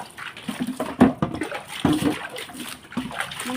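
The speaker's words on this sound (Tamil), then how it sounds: "இப்போ இந்த மாதிரியே நான் எல்லாத்தையும் கழுவிடுறேன்" Water runs and splashes while household items are washed by hand, with a steady flow broken by brief louder splashes and clatters, close and moderately loud.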